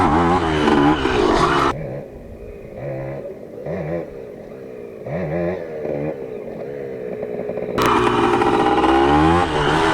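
A Kawasaki KE100 motorcycle gets loud throttle blips for wheelie practice: a raspy two-stroke roar, a dip to a burbling idle for several seconds, then another strong surge, close by with no talk.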